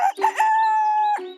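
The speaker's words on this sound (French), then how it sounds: "le coq se mit à chanter" A rooster crows in a garden in a narrated children's story, giving one loud, clear, sustained cock-a-doodle-doo that opens with short rising notes and holds a long steady tone before falling away, with no talk.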